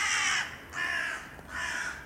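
Crows gathered near a black cat chasing a magpie give three loud, harsh caws in a row, spaced about evenly and close by, with no talk.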